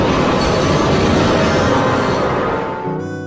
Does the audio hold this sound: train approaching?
yes